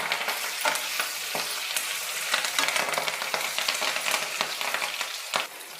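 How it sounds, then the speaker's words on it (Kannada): Brinjal frying in hot oil with curry leaves, a steady close sizzle broken by scraping stirs and light metallic clinks of a spoon against the pan, no voices. "ಎಣ್ಣೆನಲ್ಲಿ ಚೆನ್ನಾಗಿ ಬದನೆಕಾಯಿ ಫ್ರೈ ಆಗಬೇಕು ಇನ್ನೂ ಸ್ವಲ್ಪ ಕರ್ಬೇವು ಸೊಪ್ಪು ಹಾಕ್ತೀನಿ"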